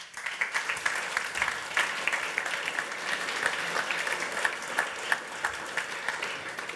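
Audience applause at a Front-end conference in Zurich greets speaker Tim Kadlec, a steady wash of moderate clapping from a crowd heard at some distance, with no speech.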